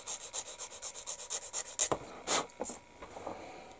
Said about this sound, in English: take my sander, I'm going to sand this off the top where I just cut